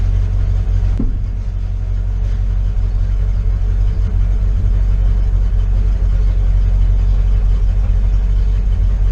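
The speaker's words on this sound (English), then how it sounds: "press this back and that puts the hoist back down" A dump truck's engine runs at a steady, loud idle while its dump hoist is lowered, with a low continuous rumble and one brief knock near the start.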